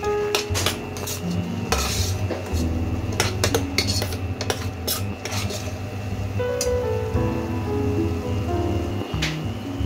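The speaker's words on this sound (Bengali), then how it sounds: "পেঁয়াজ টমেটোটা ভালো করে ফ্রাই করে নেব।" Onions and tomatoes fry in a pan for chicken kasa, with a metal spoon clattering and scraping steadily against the pan over a constant sizzle, close and fairly loud, no talking.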